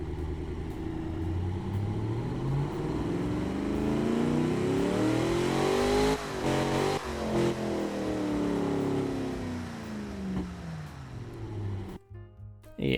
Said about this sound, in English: just what you would expect from old V8 engine